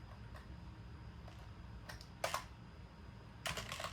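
Sparse, faint keystrokes on a computer keyboard entering text into Windows 3.0 running on a Wii, coming as a few isolated clicks and two short bursts of typing over a low steady hum.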